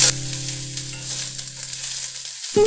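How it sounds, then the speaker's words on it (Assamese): Capsicum fries in a little oil in a pan after onions, a steady close sizzle with a low electrical hum beneath, ending in a sharp clatter. "অকমান কোমল হোৱালৈকে ভাজি লম"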